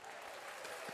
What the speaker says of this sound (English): All right, we're clapping it up.